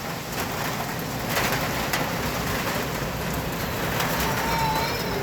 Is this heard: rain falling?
yes